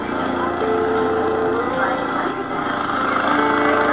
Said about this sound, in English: Get off my lawnmower.